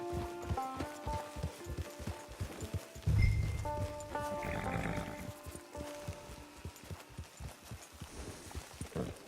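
Rhythmic clip-clop of a horse's hooves walking steadily in the Red Dead Online video game, with a brief louder thump and rustle partway through and faint tonal game sounds in the background.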